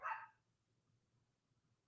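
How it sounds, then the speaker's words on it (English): A dog barking outside at night, a single sharp bark at the start, then quiet with a low background hum. "I don't know why my dogs are barking all night"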